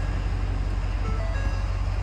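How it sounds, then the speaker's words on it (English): A Ford 6.7 Powerstroke diesel truck engine idles steadily with a deep, constant low rumble and an even pulsing beat throughout, heard alone without speech. "we're gonna start the truck, let it run for a minute, shut it off, and do that 2 times"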